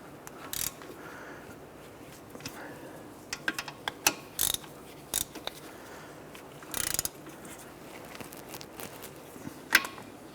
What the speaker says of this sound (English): Let's grab our ratchet and our socket. Let's go ahead and snug those in.